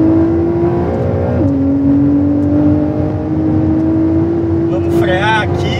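A new-generation Porsche 911 accelerates hard around the Velo Città race track, its loud, steady engine note holding high with a quick drop at a gear change before pulling on again.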